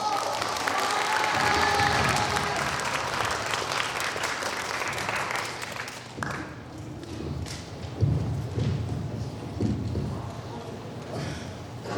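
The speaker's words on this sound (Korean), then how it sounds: "박수 부탁드립니다" Audience applause for a student team presentation, a dense burst of many hands clapping that thins after a few seconds into scattered claps and a few heavier thumps, with faint voices beneath.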